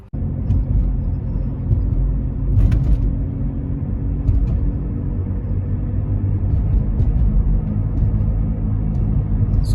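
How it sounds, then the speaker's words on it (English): A Volvo V50 T5 is driven with a worn wheel bearing, giving a continuous low rumbling groan under steady road and cabin noise, with no talk. "That's a wheel bearing groan sound."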